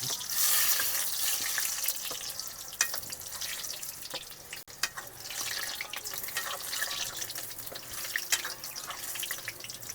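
Gram flour pakoras fry in a pot of hot oil, a steady faint bubbling and crackle running with no break, with a few sharper pops and no talk.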